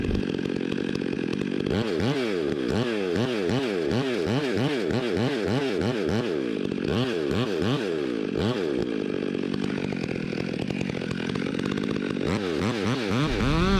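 A chainsaw cuts a notch while felling an ivy-covered oak beside a house, its engine loud and close, revving up and down in repeated rhythmic bursts with brief pauses.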